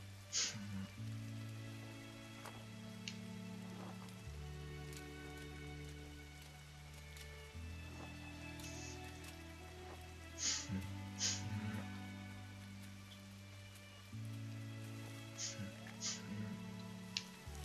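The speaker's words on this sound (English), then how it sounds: "we can see the rain's falling off of the tree there" Soft rain falls steadily in the video game Gris, a faint patter under layered sustained music tones with occasional brighter droplet accents, no voices.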